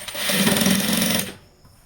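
A sewing machine runs quickly through a saree pleat, a loud close rapid stitching chatter lasting about a second before stopping.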